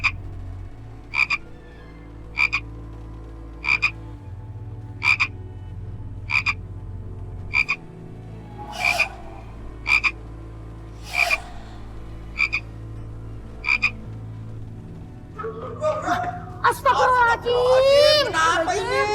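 Frogs croak in a slow, regular series of about a dozen sharp, evenly spaced calls that stand out clearly against a quiet background. Voices and chatter break in near the end.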